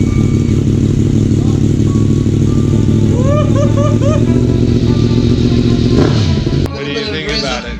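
A 2018 Yamaha MT-10 (FZ-10) engine fitted with an Akrapovic slip-on exhaust and de-catted, idling with a loud, steady low rumble and a short rev near the end, while people talk close by.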